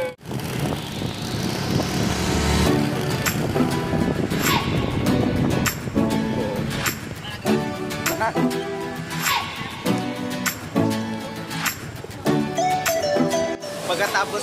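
A motorcycle rides along a road toward Maria Cristina Falls, its loud, steady engine drone and wind filling the first few seconds before giving way to quieter engine sound mixed with voices and other sounds.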